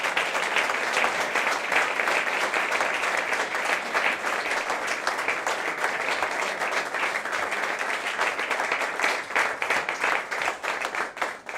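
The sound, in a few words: audience applause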